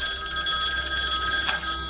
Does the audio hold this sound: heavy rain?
no